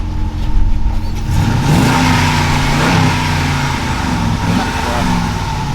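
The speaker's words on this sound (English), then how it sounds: "run that engine real quick" Dodge Challenger engine revving close by, a loud rising roar that holds strong and then eases into a steady, throaty run, with no talk over it.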